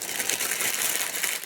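Clear cellophane wrap being crumpled by hand gives a dense, continuous crackle of crinkling, loud and close, with no talking over it.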